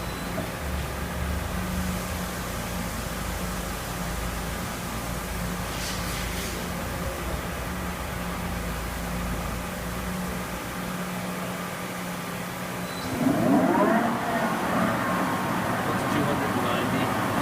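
A Chevalier CNC flat bed lathe spindle runs in its high gear range with a steady mechanical hum and whine, and a louder, brighter surge toward the end.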